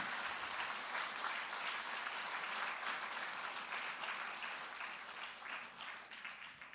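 Congregation at a New Year's Eve church service in a Daegu church applauding, a sustained, dense roll of many hands clapping, fairly distant and soft, easing slightly toward the end.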